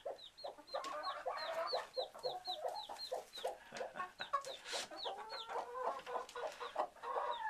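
A hen clucking softly and steadily while her chick peeps repeatedly in quick, high chirps, both close and fairly quiet, with no voices.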